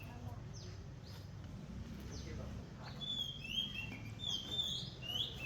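Birds sing and chirp faintly in tropical resort gardens on Koh Lanta, Thailand, high repeated calls scattered over a low steady background hum.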